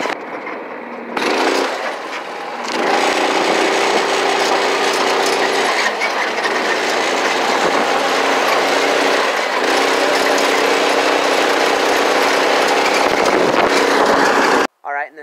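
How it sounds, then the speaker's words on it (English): A Dragonfly go-kart engine drones loud and steady through a drive after a brief idle, its buzzing note wavering slightly with throttle, recorded close from the kart, then cutting out abruptly at the end. "it is going to be me and Carter riding in the go-kart"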